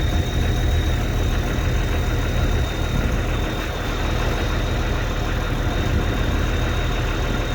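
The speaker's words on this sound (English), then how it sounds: "So I just got a basic angle grinder here" A basic angle grinder runs with a steady, loud motor drone and a thin high whine, holding the same pitch throughout with no talking.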